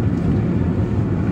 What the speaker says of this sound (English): Oh, and the engine kick in